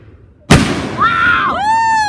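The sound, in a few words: fireworks exploding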